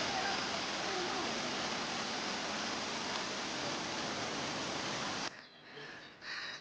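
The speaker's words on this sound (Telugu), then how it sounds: "వాటర్ ఫాల్ సౌండ్ కానీ వినపడుతుంది." A waterfall on a Kudremukh trek in the Western Ghats roars as a steady, dense broadband rush for about five seconds, then cuts to quieter, patchier water noise.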